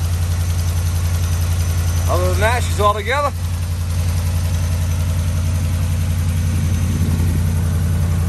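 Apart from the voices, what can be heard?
Ram 5.7 engine idling with exhaust manifold leak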